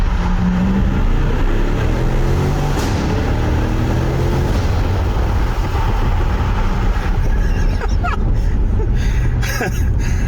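A Chevrolet C8 Corvette engine roars loudly and continuously up close as the car revs and accelerates hard, with a steady, dense rumble throughout.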